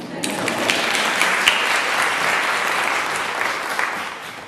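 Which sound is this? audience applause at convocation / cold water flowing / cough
audience applause at convocation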